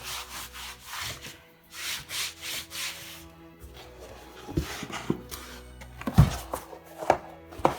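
A damp cloth wipes across an old book cover caked with mostly dry paint, giving a run of close, soft rhythmic rubbing strokes, followed by a few sharper knocks and scuffs as the book is handled.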